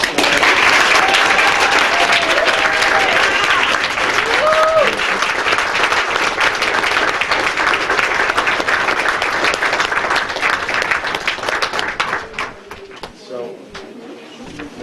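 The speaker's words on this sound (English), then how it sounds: "So let's give you guys a round of applause." Loud, sustained applause and cheering from an audience honoring students, thick and continuous with voices and a few whoops mixed in, tapering off over the last few seconds.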